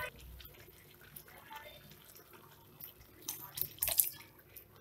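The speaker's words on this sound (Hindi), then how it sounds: "थोड़ा पानी डालते हैं हम उसमें।" Water pours and trickles into a cooking pot of sambar at low volume, with a brief louder splash near the end.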